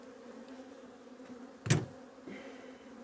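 Honeybees buzz steadily around an opened, requeened hive with a red-marked queen walking the comb, a low continuous hum with a brief louder close pass midway.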